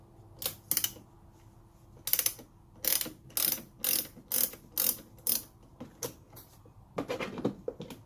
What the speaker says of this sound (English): to disconnect the battery, we're going to be using a 10mm